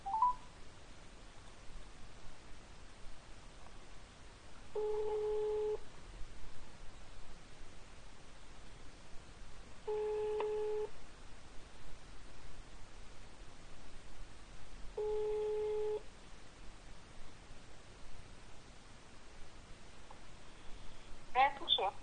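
Three evenly spaced telephone ringback tones sound while a call is being dialed, each about a second long and five seconds apart over faint line hiss, with brief clicks at the start and end.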